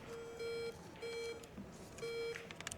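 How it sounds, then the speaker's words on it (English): Three steady electronic beeps from a pool match shot clock, each about a third of a second long, sounding at regular intervals over faint background noise. "here we see the beeps of the shot clock"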